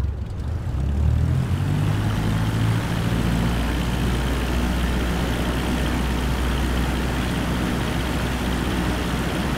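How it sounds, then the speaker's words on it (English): A simulated airplane takes off in Microsoft Flight Simulator 2024, the engine roar building and then holding loud and steady, with no talking. "let's try a takeoff with these new settings."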